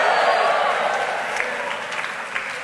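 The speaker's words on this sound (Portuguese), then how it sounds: "Umas palmas aqui, outras ali." A church congregation applauding at a celebration service, sustained clapping from a crowd that starts full and gradually thins and softens, with a few sharper individual claps standing out near the end.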